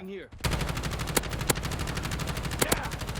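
Rapid automatic gunfire in the video game Warzone rattles in a dense continuous burst, punctuated by a few louder sharp shots.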